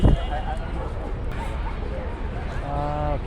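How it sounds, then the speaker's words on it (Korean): Dogs in a New York park, with a close yip at the start, then small barks and a whining yelp over a steady hum of park chatter and crowd babble. "강아지들을 볼 수 있는 곳이라, 공원 안에 과연 총 몇 마리나 있을까?"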